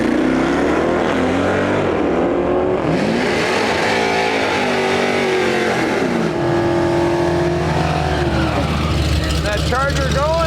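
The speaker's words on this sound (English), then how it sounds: "this Charger pulling up" A Dodge Charger pulls up at a street car event, its engine revving loudly and roaring up and down in pitch, with voices heard under the engine noise throughout.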